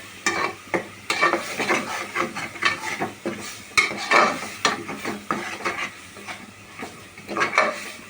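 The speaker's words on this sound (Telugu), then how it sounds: "మసాలా వేగుతుంది." Masala spices frying in a pan for gongura mutton curry, with a steady sizzle broken by repeated scraping strokes of a spoon stirring against the pan, close and fairly loud with no talk.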